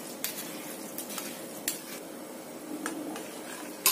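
Sago pearls are stirred into boiling coconut milk in a pot, with a soft, steady bubbling hiss broken by light scrapes and taps of a spoon against the metal, close up and with no one talking.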